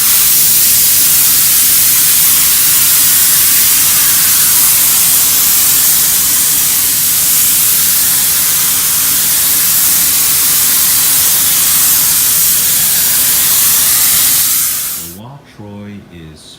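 Airbrush spraying ferric patina onto a bronze sculpture, a loud continuous close hiss of air and spray that runs steadily then stops abruptly, followed by faint clattering.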